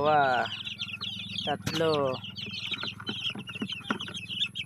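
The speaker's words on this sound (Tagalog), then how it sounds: "ilagay na natin sa loob yung mga sisiw" Baby chicks being placed one by one into their cage, with close clucking and cheeping calls at the start and again near the middle, then lighter rustling and small chirps under a steady low hum.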